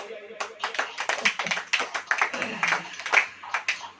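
A church congregation claps during a sermon, a brief run of uneven handclaps mixed with a preacher's voice speaking over them.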